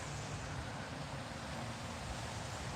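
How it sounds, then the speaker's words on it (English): Wind blows outdoors in a constant broadband roar, buffeting steadily and filling the whole stretch at a low, even level with no speech. "As you see, it's windy"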